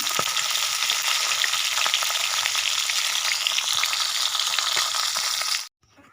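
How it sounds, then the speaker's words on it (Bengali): Fish coated with salt and turmeric fries in a pan, a loud close, continuous sizzle with sharp pops and crackles that cuts off abruptly near the end. "মাছ কেটে ধুয়ে লবণ হলুদ মাখিয়ে নিয়েছি ভাজতেও বসিয়ে দিয়েছি"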